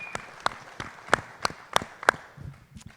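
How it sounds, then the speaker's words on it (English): Sparse, widely spaced claps at a suicide prevention community forum, a handful of distinct sharp hand claps in a slow irregular rhythm with quiet gaps between, fairly close and moderate in loudness. "we have to give her a big round of applause"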